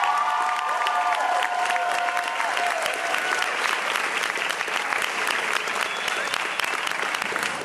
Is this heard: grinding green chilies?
no